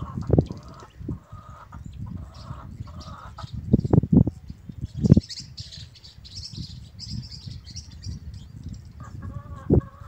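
A male bird calls out to its mate from near a mud nest under construction on a rural farm, sharp chirping notes scattered through the clip over a low steady background rumble.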